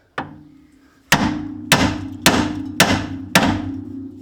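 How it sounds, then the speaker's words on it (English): Hammer tapping on the loose track rod end of a Fiat Panda 4x4 during suspension work: one light tap, then five sharp, ringing metallic blows at a steady rhythm, close and loud with no talk. "Undo the nut, put the nut back on, and just tap there."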